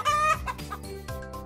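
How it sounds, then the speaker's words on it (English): A white toy chicken gives out a loud, close burst of clucks and a short squawk, electronic in tone, followed by softer clucking sounds with no speech. "White chicken."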